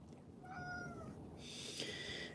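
A cat meows a couple of times indoors, soft drawn-out calls close by and fairly quiet, with no talking over them.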